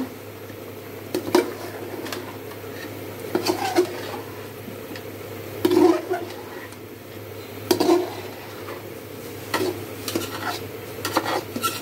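Chicken curry with potatoes stirred in a pot, a spoon scraping and knocking against the metal at irregular intervals over a faint simmering sizzle, close and clear with no talking.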